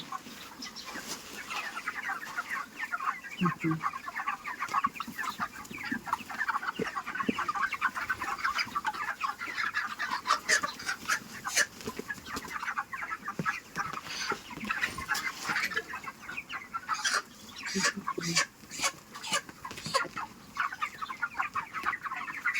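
Several chickens clucking and squawking continuously, close by and fairly loud, with scattered sharp calls and rustling; no speech.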